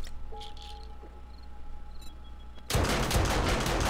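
An automated turret in the zombie survival game 7 Days to Die opens up with sudden loud rapid fire after a quiet stretch of faint ambient tones, continuing to the end.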